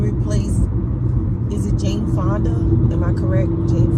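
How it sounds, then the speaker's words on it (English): Loud low-frequency road rumble fills a moving car's interior throughout, steady and heavy, with someone talking over it in brief bursts. "Sorry y'all, this car is loud."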